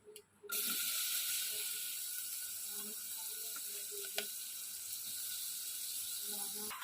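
Whole garam masala sizzles in a hot pan for chicken stew: a loud, steady hiss that starts abruptly after a brief faint clatter and runs on evenly, with a few soft knocks of stirring.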